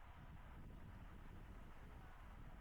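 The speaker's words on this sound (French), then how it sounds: "Donc le vent va complètement face." Steady rumbling wind buffets the microphone, a dense low roar with no pauses, as a cyclist in a race near Compiègne rides unsheltered straight into a strong headwind.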